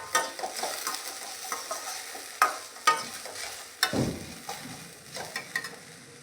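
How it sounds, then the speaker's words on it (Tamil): Okra sautéing in a pan as it is stirred: a steady oily sizzle runs throughout, broken by repeated scraping taps of the spoon against the pan, with no voices. "வெண்டைக்காயை மட்டும் முன்னாடி வதக்கிக்கிட்டேன், கொடகொடப்பு போகணும் அப்படிங்கிறதுக்காக."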